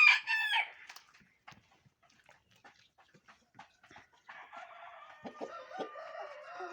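Chickens cluck nearby, opening with a loud crowing call, then scattered soft clucks that build into busier flock chatter toward the end.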